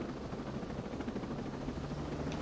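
Helicopter in the video game Ghost Recon, a steady low rotor thrum and engine drone filling the whole stretch at constant loudness, with no talk.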